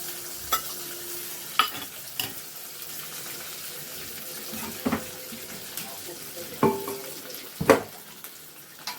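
Chutney goes into hot oil for sev usal, giving a soft, steady sizzle under a quiet kitchen background, punctuated by several sharp clinks and scrapes of a spoon against the pan.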